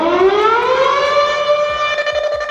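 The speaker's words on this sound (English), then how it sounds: "So for example, if I have a siren going," A loud wailing siren sound effect from a Pioneer DDJ-1000 SRT DJ controller rises in pitch and holds steady, with rich harmonics, playing continuously on its own with faint low thumps underneath.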